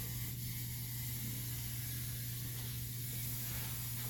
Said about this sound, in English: I'm gonna go with the Canada 14. It's a working spray. And I'm gonna put it right over the oil.